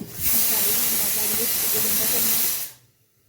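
Wet food hits boiling coconut oil and erupts into a loud, steady sizzling hiss with crackling spatter, lasting a couple of seconds before cutting off abruptly into near-silence.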